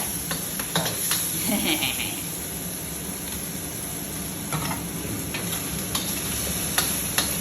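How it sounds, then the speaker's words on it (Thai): Garlic stir-frying in bacon fat in a pan for Thai pad see ew, a steady close sizzle under scattered spatula taps and scrapes, with a little talk in the background. "ก็ผัดให้กระเทียมหอม"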